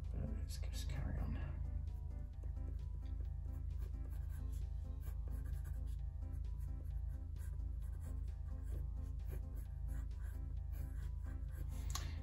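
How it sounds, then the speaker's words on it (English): Pencil roughly sketching a kitten on paper, a steady soft scratching and rubbing that runs continuously and close, with a low constant hum underneath. "Just roughly sketching at the moment."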